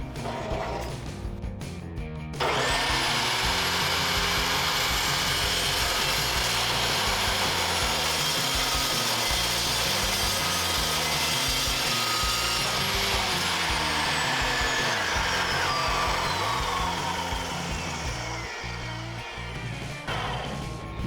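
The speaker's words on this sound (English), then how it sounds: "they have this metal blade like a miter saw, but they turn slower and they're cold cut saw, so they will cut the steel" A slow-turning cold cut saw with a metal blade bites through steel stock, a loud continuous grinding screech after a brief lead-in, with a high ringing tone as the blade spins down near the end.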